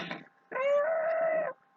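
A young chick gives a short chirp, then a sustained high peeping call lasting about a second, close by and clear.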